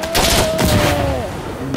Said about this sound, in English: Artillery incoming.